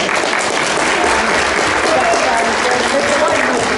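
A panel audience at a Dark Shadows 60th anniversary celebration gives a sustained round of applause, dense clapping holding at a steady level throughout, with some talking mixed in.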